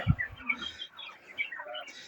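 Quiet chirps and clucking calls from egg-laying farm poultry in the morning, several overlapping short notes scattered over a couple of seconds, fairly close by.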